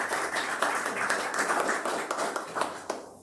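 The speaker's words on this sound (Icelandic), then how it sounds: "við skulum bara klappa strax fyrir henni" An audience at a seminar on old travel routes breaks into steady applause, a dense crowd of clapping hands lasting a few seconds before tapering off, heard from within the room.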